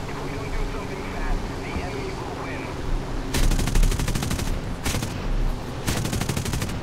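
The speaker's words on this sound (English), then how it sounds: "Unfortunately, the AA is now firing at me." Anti-aircraft gunfire in War Thunder aimed at a P-40 Warhawk fighter, heard as loud rapid bursts of repeated shots that start midway and return in two more bursts, over a steady engine drone.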